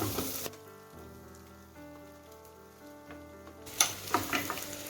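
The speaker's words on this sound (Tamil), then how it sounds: "நம்ம கட் பண்ணி வச்சிருந்த காய்கறி எல்லாம் வதக்கணுங்க" Onions and chopped vegetables sauté in a pan for mushroom pepper kulambu, a soft sizzle under a quiet tonal hum, with a louder burst of crackling and stirring toward the end.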